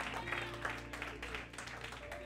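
Church congregation applauding during a sermon, a dense, moderately distant patter of many hands clapping over a droning background, with voices mixed in.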